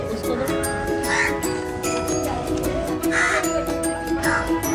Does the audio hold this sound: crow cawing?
yes